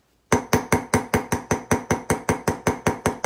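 A hammer taps a crystal setter into a small metal charm during hand stamping, giving about fifteen sharp, evenly spaced metallic strikes in quick, steady rhythm, close and clear.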